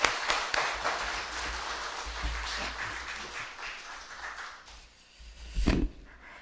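A church congregation applauds during a Sunday service as a missionary comes forward, with steady clapping from a crowded room that gradually thins out and ends with a brief louder thump.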